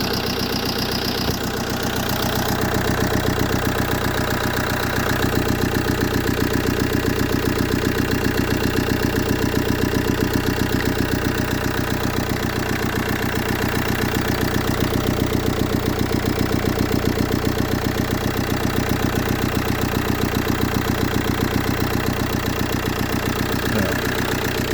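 A Fiat Ducato 2.3 diesel van engine with a P0001 fault code runs at a steady idle, a continuous close-up drone with a faint knocking rhythm, loud and unbroken throughout with no talking.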